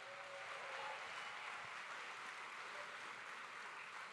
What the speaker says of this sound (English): So round of applause for our funding partners.